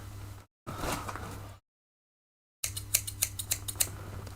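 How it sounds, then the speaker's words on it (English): A pair of sharp scissors snips in a short run of crisp clicks near the end, close by, after two bursts of rustling noise and a stretch of silence. "I'll just need a pair of scissors."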